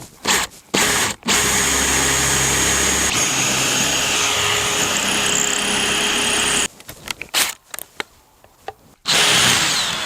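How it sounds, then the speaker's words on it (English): Power drill boring bolt holes through a wooden catapult arm, with a steady whine running for several seconds that then breaks into short stop-start bursts. "I'm going to drill through now, here and here, and put bolts in."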